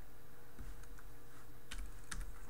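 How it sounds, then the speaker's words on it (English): Typing on a computer keyboard: a handful of soft, scattered key clicks in short bursts, fairly faint against a quiet room hum, with no talking. "I'm just typing up."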